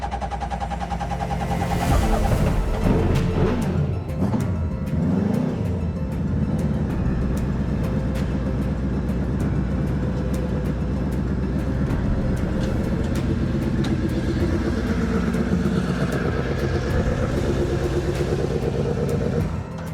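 A superbike engine fitted in a Peugeot 106 fires up and runs, revving loudly near the start before settling into a steady, throbbing idle with occasional blips, close and dominant throughout.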